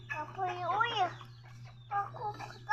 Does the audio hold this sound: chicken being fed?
yes